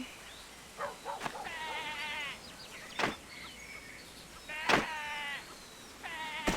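Sheep in the online game Tera bleat repeatedly in wavering cries, several bursts over steady background game sound, with sharp clicks between them.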